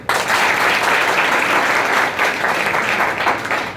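Loud, dense applause fills a prize distribution hall to honour the year's topper student, an even roar of many hands clapping continuously for nearly four seconds.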